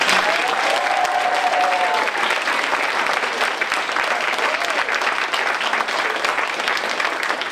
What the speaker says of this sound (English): I think we should give a huge round of applause to Mr. Smith.